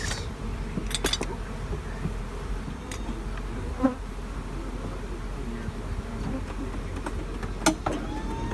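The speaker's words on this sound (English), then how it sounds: "Bees in a honey house are a real pain in the ass." Honey bees buzz steadily inside a honey house at an extraction facility, a continuous close insect drone with a few brief louder passes, with no talk.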